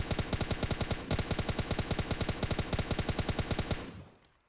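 Automatic gunfire in PUBG Mobile Lite zombies mode during a boss fight, a fast, even burst of loud repeated shots lasting about four seconds before trailing off.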